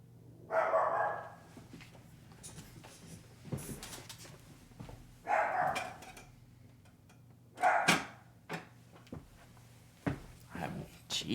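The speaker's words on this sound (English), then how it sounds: "that's my dog Toby" Toby the dog barks in separate loud bursts, some single and some doubled, spaced a couple of seconds apart indoors, with quieter sounds between them.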